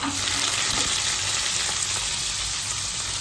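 Chana dal sizzles steadily in hot oil for a cabbage and split chickpea curry, a dense continuous frying hiss close up with faint stirring scrapes and no talk.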